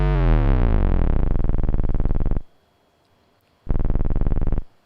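A harsh, buzzing rattle with a deep rumble beneath from an SP-404 sampler, sustained for a couple of seconds, then a pause and a shorter loud burst of the same gritty texture.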